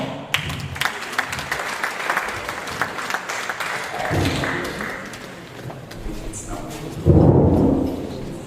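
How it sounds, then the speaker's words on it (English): An audience at a cybersecurity meetup claps, the applause steady for several seconds, with low rumbling murmurs and a closer burst of noise toward the end. "Round of applause for us."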